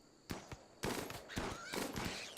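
Short bursts of gunfire from defensive turrets and drafted colonists in the colony-building game Rimworld, several sharp cracks in quick succession, fairly faint and distant.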